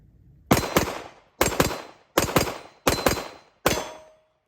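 A handgun fires one-handed at a range in five loud, close bursts, each a quick pair of sharp shots with ringing decay, spaced roughly evenly apart.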